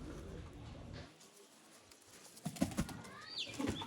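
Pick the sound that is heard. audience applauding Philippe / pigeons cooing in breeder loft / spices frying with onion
pigeons cooing in breeder loft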